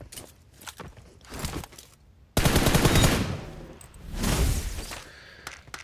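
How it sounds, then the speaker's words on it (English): Automatic gunfire from a machine gun in the PUBG Mobile battle royale game: a dense, loud burst of rapid shots in the middle, with scattered shots before and a second burst after. "Is pushing with MG"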